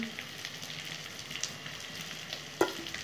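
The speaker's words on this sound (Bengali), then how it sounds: "পেঁয়াজটা একটু ভাজা ভাজা করে নেবো, হালকা করে" Onions and three green chillies frying lightly in a pan, a steady close sizzle with soft stirring scrapes and one sharp clink near the end, no voices.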